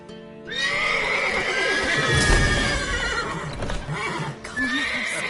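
Horses in a PS4 video game give loud, shrill whinnies and snorts, one after another, over clattering hoof clip-clops and rumbling motion, with a final whinny near the end.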